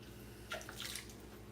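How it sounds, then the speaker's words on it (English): A dirty N17 makeup brush is dipped into water for cleaning, making a brief, soft, quiet slosh and swish with no talking. "So 2 more very dirty N17s. I'm gonna dip into water."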